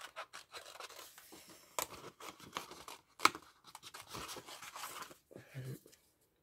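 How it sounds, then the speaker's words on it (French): Scissors roughly cutting around a paper die cut for a shabby-style tag, giving irregular close snips and rustling paper scrapes in short bursts, with one sharper click partway through. "Alors, j'avais mon ciseau ici. Je vais venir faire le contour. Ben, déjà, je vais le couper grossièrement."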